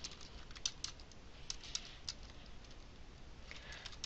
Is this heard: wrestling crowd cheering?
no